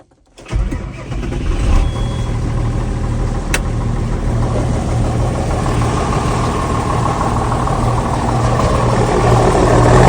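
A John Deere 6910 tractor with a 140 hp engine cranks, fires and settles into a steady loud idle, its diesel rumble holding close and even for several seconds with no talking.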